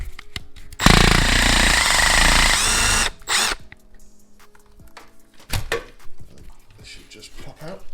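A power tool, likely an impact driver, loudly whirs for about two seconds while removing a 3/8 nut from the passenger-side brake cable bracket of an EZGO TXT golf cart during a rear axle rebuild, followed by metallic clinks and brief handling noises.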